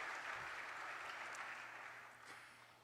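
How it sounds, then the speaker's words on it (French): Audience applause at a national scholarship programme launch ceremony, a steady wash of many hands clapping that gradually fades toward the end, heard from some distance. "Applaudir pour ce moment historique que nous sommes en train de vivre"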